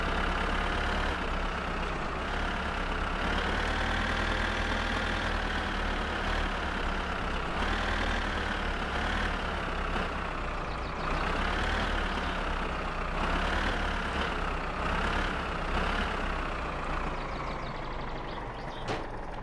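A tractor engine in the video game My Summer Car idles and runs steadily, a loud continuous low diesel drone with a wavering tone that rises and falls slightly over the whole stretch, with no voices.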